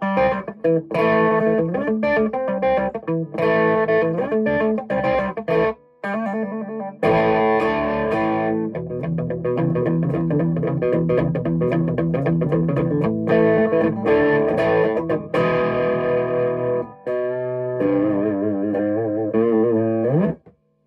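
Electric guitar played through effects with the reverb switched off: dry, distorted chords and single-note runs, loud and close, continuous for about twenty seconds with a few brief pauses, no talking.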